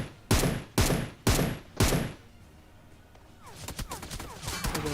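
Gunfire from a Tommy gun in the battle royale game BGMI: four loud, sharp blasts half a second apart open the scene, followed by a quieter stretch of rapid, crackling distant shots building toward the end.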